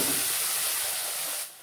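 Matar dal goes into hot oil tempered with radhuni and white cumin and hits it with a loud, close, steady broadband sizzle that eases slightly at the very end.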